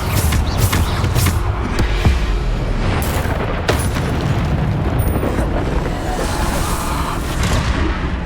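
Bombarda explosion spell cast in Hogwarts Legacy, heard as a dense, continuous roar of booming blasts with sharp crackling bursts, loud and sustained with no gaps.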